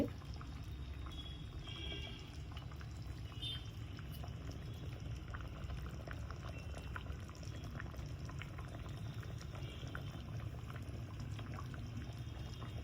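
Fish curry made with ruba fish and kodampuli bubbles away under a lid in a covered pot, a steady close simmering hiss with soft continuous bubbling and occasional faint pops, no voices.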